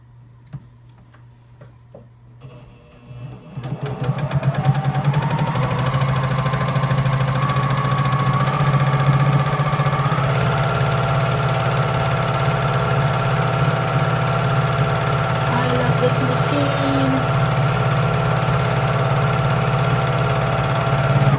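A sewing machine top stitching a fabric water bottle cover runs steadily after a quiet start, its motor hum and rapid needle ticking continuing loud and unbroken to the end.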